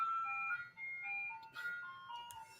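An ice cream truck's tinkling melody plays a few clear notes, moderately near and on its own with no talk.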